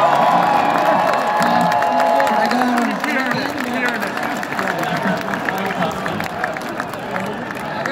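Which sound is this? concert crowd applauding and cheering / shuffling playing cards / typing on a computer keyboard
concert crowd applauding and cheering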